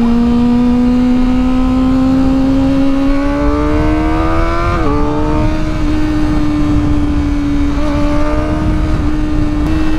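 A motorcycle engine fitted with an exhaust silencer revs steadily. The smooth hum climbs slowly, dips briefly and then holds, loud and close throughout with no talking.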